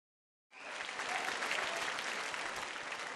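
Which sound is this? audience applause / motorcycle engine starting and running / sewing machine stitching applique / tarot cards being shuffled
audience applause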